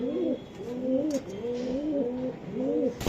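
Budapest racer pigeons coo in a steady run of soft, repeated rolling calls close by, with a faint voice and a brief sharp knock at the end.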